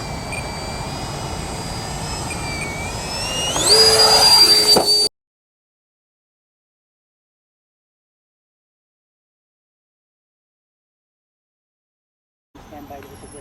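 A model jet's turbine engine whines steadily during a slow, nose-high landing approach and swells louder for a moment before the sound cuts off abruptly. Near-silence follows, then faint noise returns at the end.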